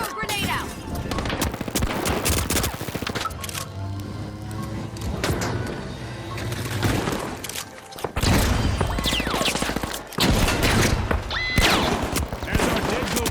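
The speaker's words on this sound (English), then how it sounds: "Pyro grenade out!" A pyro grenade goes off in THE FINALS amid dense game combat, with bursts of gunfire and crackling blasts layered over loud, continuous action; a second heavy burst hits around the middle and the chaotic noise stays busy throughout.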